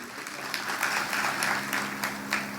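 Brief, fairly faint applause for the Banjara film team at a promotional event: steady clapping with occasional sharper claps over a low background hum.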